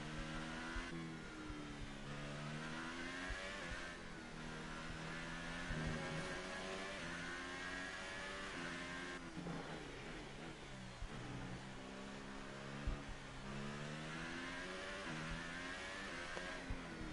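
An F1 race car engine in a video game on the final lap of the Belgian Grand Prix, a continuous high-pitched whine rising and falling with gear changes and revving, steady and close throughout.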